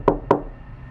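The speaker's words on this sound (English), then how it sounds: "he knocked again" Two distinct knocks on a door, spaced about a quarter second apart, fairly close and solid over a faint low room hum, used as a sound effect in a horror story narration.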